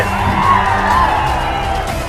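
A large crowd at an outdoor political rally cheers and whoops in a loud, sustained roar, with clapping mixed into the dense wash of voices.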